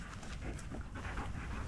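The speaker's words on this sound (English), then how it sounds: "Hello doggies." Street dogs in Prizren, Kosovo pant quickly and softly at close range, a steady run of breathy huffs over a noisy outdoor background.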